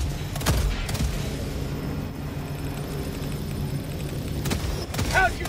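Sentry turret in Helldivers 2 firing in sharp bursts of gunfire, loud bangs at the start and end with a dense rumble of combat between, all close by and without talk.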